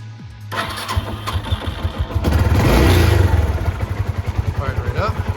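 A 2006 Suzuki GZ250 motorcycle cranks briefly and fires up, rising into a louder rev before settling into a steady, close, pulsing idle with rhythmic low thumps.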